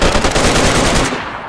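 Rapid automatic gunfire in the survival shooter DayZ, a loud, fast burst of repeated shots lasting about a second before cutting off and fading.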